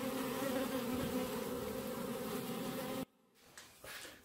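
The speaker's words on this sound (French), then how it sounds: "il y a les abeilles qui viennent taper sur le micro et on n'entend plus ce que je dis" Honeybees swarm loudly around a hive and right against the microphone, a dense continuous buzz for about three seconds that cuts off abruptly, leaving faint scattered buzzing afterward.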